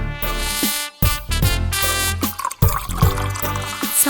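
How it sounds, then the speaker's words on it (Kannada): Water is poured into a pot during home cooking, coming in several splashing bursts separated by short pauses, close and fairly loud, with no talking. "ನೀರ್ ಹಾಕ್ಬೇಕು."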